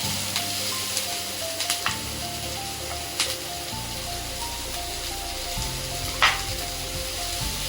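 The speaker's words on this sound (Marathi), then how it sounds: "चांगलं आपलं लाल होईपर्यंत भाजून घेऊया." Onion pieces frying in oil in a pan until browned, a steady close sizzle running throughout with a few brief clinks and stirring scrapes.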